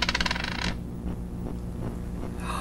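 A wedding ring drops onto the floor in a film scene, giving a quick run of bright metallic bounces and rattles that settle within under a second, followed by quiet ambience with no talk.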